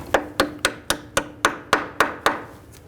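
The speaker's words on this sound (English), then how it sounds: "just give it a little tap." Nine sharp metallic taps, evenly spaced about a quarter second apart, as a wheel cylinder retaining clip is knocked into place on a 2003-2009 Subaru Forester rear brake, each strike ringing briefly and close up.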